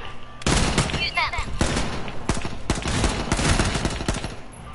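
Gunfire in a shooter video game, loud rapid bursts and overlapping shots crackling almost continuously, with excited voices talking over the shooting.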